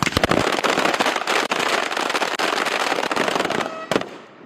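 Rifles and pistols fired by Marines on a live-fire range drill at Camp Lejeune, North Carolina: a rapid, dense stream of loud close gunshots fills most of the stretch, ending with one isolated sharp crack near the finish.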